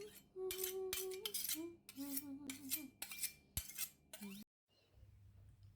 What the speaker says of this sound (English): go right ahead and crack open my eggs and give them a quick whisk